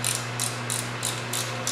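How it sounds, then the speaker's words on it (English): A 7/16 wrench ratcheting while torquing rocker bolts on a small-block Ford 302 5.0L engine with roller lifters, six quick, evenly spaced clicking bursts close by over a steady hum, no talk. "And we're just going to torque it down."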